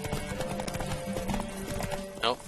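Horse hooves clip-clop steadily at a trot in The Witcher 3: Wild Hunt, a continuous mid-level rhythm under game music, with a brief brighter burst near the end.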